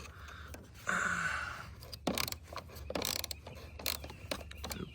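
A ratchet on an extension clicks in short bursts while tightening a cowl bolt in a tight spot on a Lincoln Town Car, quiet and close, with brief pauses and small handling noises.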